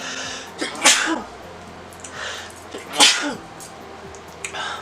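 Two sharp sneezes about two seconds apart, close and loud, with quiet background between them.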